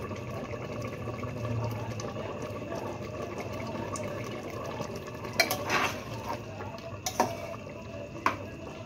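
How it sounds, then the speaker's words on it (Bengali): Mutton biryani curry bubbles in a pot while a spoon stirs it, giving a soft simmering wash under several sharp metallic scrapes and clinks against the pot toward the end, close by and with no talking. "এরকম ভালো মতন ঝোলটা ফুটছে"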